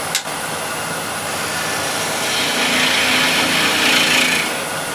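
A spindle gouge cuts into spinning wood on a lathe while turning a disc flower vase, giving a steady close rasping hiss that builds slightly toward the end, with no talking.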